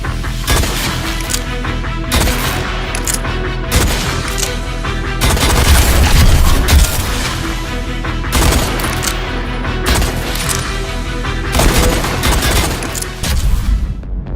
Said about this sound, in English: which features our new revolver weapon type and a brand new modifier